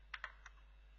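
Three quick keystrokes tap on a computer keyboard close by, light and crisp clicks in a short burst over a faint steady hum, without talking.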